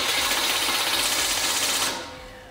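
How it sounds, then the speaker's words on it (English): A FiTech EFI fuel system primes after the key is turned on: a steady, loud electric pump buzz with injector prime shots runs for about two seconds, then fades quickly into a quieter hum. "we key on, fuel pump prime, prime shot from the injectors"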